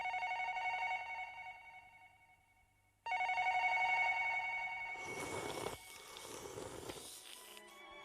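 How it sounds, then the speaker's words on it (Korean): A telephone rings in loud, close electronic bursts with a brief pause partway through, then the ringing gives way to a rougher burst of mixed, noisy sound toward the end. "혹시 지금쯤 한누리가 우리 집에 전화하는 거 아닐까"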